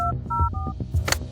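A telephone number dialed on a hospital phone: three short, evenly spaced touch-tone beeps, each paired with a soft low button thump, then a brief rattle as the handset is handled.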